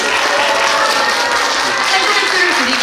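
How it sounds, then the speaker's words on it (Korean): An audience at a youth social-participation presentation contest gives a steady, dense round of applause that welcomes student presenters, with the clapping close and continuous throughout. "큰 박수로 맞이해 주십시오"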